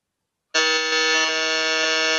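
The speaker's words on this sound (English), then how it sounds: "Everyone buzzed" A quiz buzzer starts abruptly and holds one steady, loud electronic tone for almost two seconds, with no voices over it.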